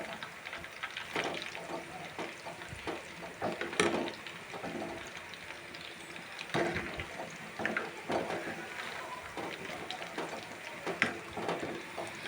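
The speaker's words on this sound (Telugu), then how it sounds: "రెండు వైపులో గోల్డ్ కలర్ వచ్చేంత వరకు ఫ్రై చేయాలి." Raw banana slices frying in hot oil, a steady soft sizzle and crackle with irregular popping and the occasional clink of a utensil, faint and continuous without talk.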